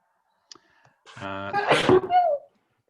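A single sharp sneeze bursts out after a short intake of breath, close and loud, trailing off into a brief vocal sound.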